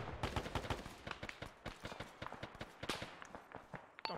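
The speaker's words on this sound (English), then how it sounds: "We just hear gunfire." Rapid bursts of video game gunfire crackle in uneven volleys, some close and sharp, others more distant, carrying on without pause in a cooperative military shooter match.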